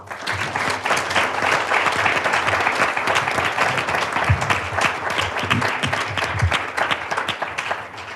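A Founders Day 2022 audience at App State gives sustained applause for women leaders being honored. Thick, continuous clapping runs throughout at close range, with a few faint low voice-like sounds underneath.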